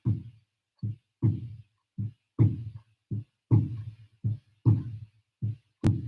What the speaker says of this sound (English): Your heart beating at the same rate this drum's going.